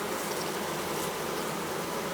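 Honey bees swarm around a queen cage set on a hive frame with a dab of honey, their close, steady buzzing forming a dense, unbroken drone with no talk.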